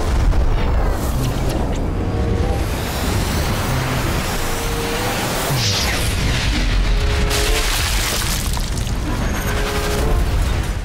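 Explosion from a red barrel in Sniper Elite 4, a loud, sustained booming roar with rumbling debris and crackle filling the whole stretch, game effects layered over it.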